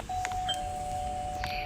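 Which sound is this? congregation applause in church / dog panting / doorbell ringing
doorbell ringing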